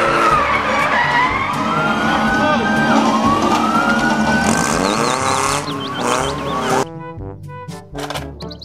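A toy police car plays a loud electronic siren with a rising and falling wail, layered with busy toy sound effects and chirps. It cuts out sharply near the end, followed by brief clattering noises.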